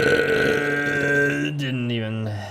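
A single long, deep burp rumbles close to the microphone, drawn out and slowly falling in pitch for a couple of seconds.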